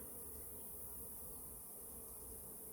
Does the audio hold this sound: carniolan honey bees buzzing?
yes